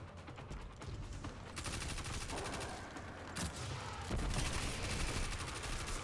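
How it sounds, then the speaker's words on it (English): Submachine gun firing in the video game Destiny 2, sustained rapid automatic bursts with rattling mechanical texture, loud and continuous over game sound. "Go ahead and kill these guys with my amazing submachine gun."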